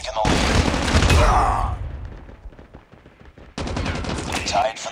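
Call of Duty gunfire in two loud stretches of rapid shots and bursts, separated by a quieter gap, with voices faintly mixed in.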